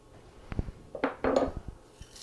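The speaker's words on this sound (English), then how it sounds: "I'm going to add my oats to a large bowl, and then I'm just going to add the rest of these dry ingredients" Oats and other dry granola ingredients being tipped into a large bowl, giving a few close, soft clinks and rustling pours in short bursts with quiet gaps between.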